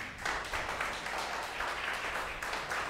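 A church congregation claps for Jesus during a Sunday service, dense steady applause from many hands filling the room for about three seconds.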